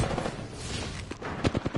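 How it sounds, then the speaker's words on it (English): Rapid gunfire in a video game crackling in a dense, continuous stream, with a few sharper close shots near the end. "I am taking fire, friends."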